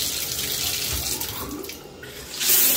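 Shower water running in a hotel bathroom, a loud, steady hiss of spray that is close and continuous and surges briefly near the end.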